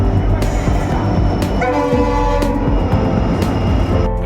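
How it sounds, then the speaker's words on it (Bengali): A train pulls into New Cooch Behar station, its steady rumble and rolling clatter filling the scene, with a horn-like tone rising midway; loud and close, with faint voices in the background. "ফাইনালি এখন চলে এসছে ট্রেন"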